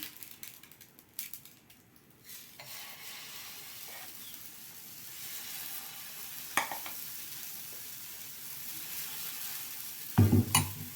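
Faint sizzling and hissing as water is sprinkled on a hot griddle for wheat flour roti, with a few small taps and clatters, ending in a louder scrape.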